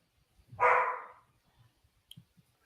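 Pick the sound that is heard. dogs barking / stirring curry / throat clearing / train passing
dogs barking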